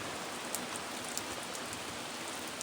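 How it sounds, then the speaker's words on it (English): Steady rain falls outside a remote cabin, an even wash of dense patter with occasional distinct drips, moderately loud and unbroken throughout. "Well, it rained all night, and it's still raining."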